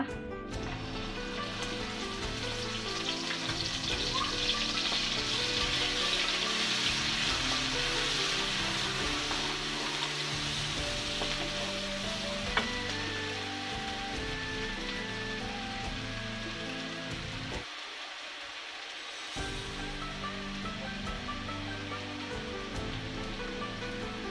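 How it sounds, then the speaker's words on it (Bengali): Onion paste hits hot oil and sizzles steadily for a long stretch, a dense frying hiss that drops out for a moment before resuming, with no voices. "তেল গরম হয়ে গেছে, এবার দিব পরিমাণ পেঁয়াজ বাটা"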